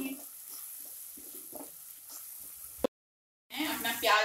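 Onion and tomato masala with salt stirring and frying in a pan for dum aloo, a steady soft sizzle with scraping strokes. It cuts out briefly, then returns as a louder, brighter fry.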